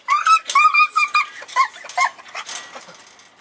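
Dog whimpering and whining in a series of high, tonal cries, close and fairly loud, tapering off toward the end.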